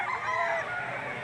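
Rooster at an auction market in Lipa, a short, loud, close crowing cry with a strained, harmonic-rich tone over the crowd's background murmur.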